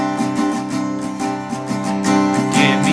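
Acoustic guitar strums the chord progression of a song in a steady rhythmic pattern, each chord ringing clearly and close up, with no voices.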